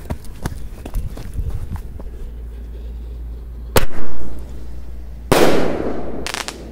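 Firework mortar shells go off outdoors at night. Footsteps run first, then a sharp bang is followed by a loud, sustained crackling burst, and another crackling burst comes a little later.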